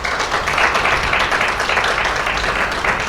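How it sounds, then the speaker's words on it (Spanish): An audience applauds a guest speaker at a Día del Abogado law workshop, a steady, dense wash of clapping that holds at an even level for about three seconds with no voices over it. "voy a reiterarles un voto de aplauso"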